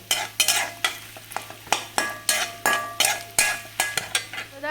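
Grated coconut fries in a pan for a cauliflower masala while a spatula scrapes through it in a steady rhythm, with sharp strokes roughly twice a second over a soft background sizzle.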